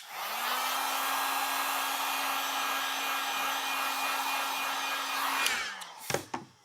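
A handheld heat tool drying watercolour paint blows a steady, loud whirring hiss for about five and a half seconds, then cuts off, leaving a few faint clicks and bumps.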